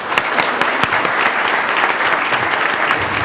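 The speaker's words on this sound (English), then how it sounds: "I want to really a great round of applause for Kathy and Marina" A conference audience applauds panel speakers at the close of a session: dense, loud, sustained clapping from a sizeable crowd that continues evenly throughout.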